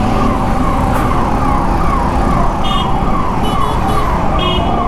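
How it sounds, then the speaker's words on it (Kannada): Ambulance siren on a street, loud and close, a continuous wailing, repeating tone over dense traffic and engine rumble, with a few brief horn-like chirps. "ಆಂಬ್ಯುಲೆನ್ಸ್ ಹೋಗ್ಬಿಡ್ಲಿ"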